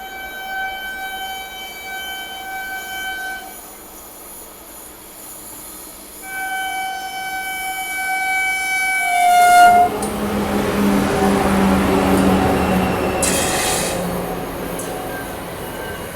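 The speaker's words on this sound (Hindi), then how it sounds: "फुल हॉकिंग के साथ।" Somnath Jabalpur Express arriving slowly through a caution zone, sounding its horn in long sustained blasts, two separate held tones, then a louder rumbling rush of the passing train with wheel noise, fairly close.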